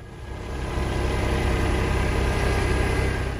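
A tractor engine runs steadily during an oak tree removal, a close, loud, unchanging mechanical drone with a deep low rumble and no voices.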